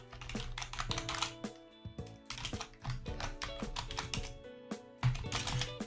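Computer keyboard keys tapped in quick, uneven bursts as an email address is entered, close and clear with short pauses between runs of keystrokes.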